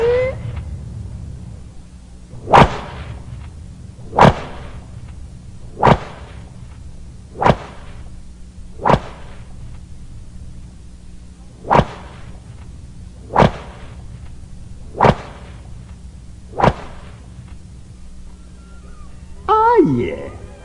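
Sharp whip cracks as a spooky sound effect, about ten loud snapping strikes spaced evenly a second or two apart, each a sudden bright crack, with a low wailing moan in the background and a voice at the close.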